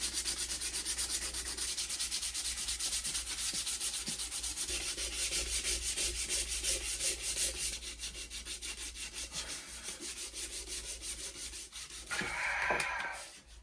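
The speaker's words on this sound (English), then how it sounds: "With an 80 grit, quite quickly I can blend." Sandpaper, 80 grit, rasps steadily across wood in a continuous, rhythmic scrubbing, close and fairly loud, with a few light knocks near the end.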